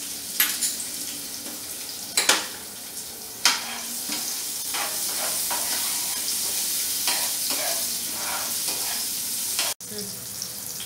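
Green beans and peas sauté in a pan for a green vegetable pulao, giving a steady close sizzle with a few sharp stirring scrapes and clinks near the start, with no voices.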